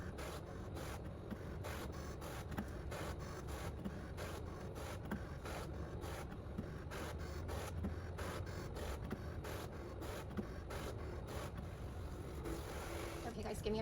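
An HPN Evo 28 cutting machine cutting kiss-cut and full-cut stickers, played sped up: a dense, steady run of rapid clicking and scraping passes with a continuous motor hum, close and even in loudness throughout.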